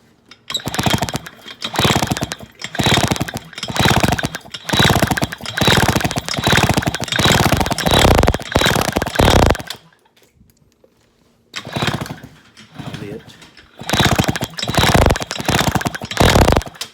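Suzuki FA50 scooter engine cranked over repeatedly, loud close whirring churning bursts in long runs, stopping for a pause, then cranking again in further bursts.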